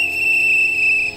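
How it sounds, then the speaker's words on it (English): A single shrill, sustained whistle tone from a video game, loud and steady, cutting off abruptly after about a second. "we need to blow the whistles"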